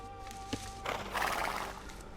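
A cavalry horse in Age of Empires II whinnies in a short, breathy neigh after a single hoof-like thud, close and clear against a faint background hum.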